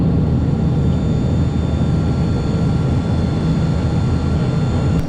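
Inside the cabin of a Soviet Yak 40 jet airliner in flight at cruising altitude, a steady, dense roar of engine and air noise fills the space without a break.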